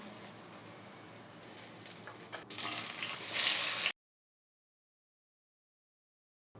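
Food frying in hot oil until golden brown, a steady bubbling sizzle that grows louder and brighter toward the end before it cuts off abruptly into silence.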